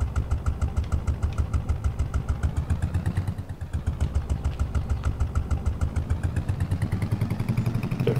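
A modded vehicle engine in Farming Simulator 22, crawling along at about 5 km/h with a steady, rhythmic low chug and a faint clatter, close and continuous without talk.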